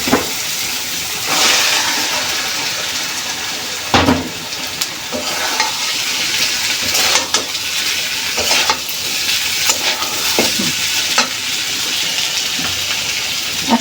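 Lentils tipped into spices frying in a pan for an egg and chickpea lentil curry, giving a steady close sizzle broken by stirring scrapes and occasional clatter, with no talk.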